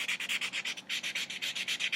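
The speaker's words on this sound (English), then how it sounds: "So you're just going to gently buff just to get a little of the shine off." A nail buffer is rubbed gently back and forth across a fingernail during nail prep, making about eighteen quick, even, close swishing strokes in a steady rhythm, with no voices.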